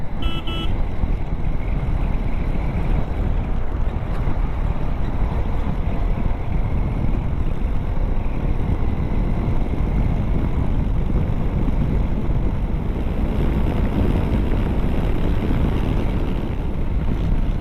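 A modified TVS RTX 300 motorcycle rides along a main highway, its engine a steady, continuous drone mixed with heavy wind rush across the whole stretch, with no talk.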